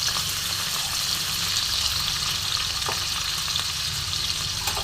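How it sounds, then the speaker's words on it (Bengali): Chopped white coconut pieces, dark skin removed, fry in hot white oil in a wok, giving a steady dense sizzle with a few faint stirring scrapes throughout. "এবার দেখো, আমি একটু নারকেল কুচি ভেজে নিচ্ছি।"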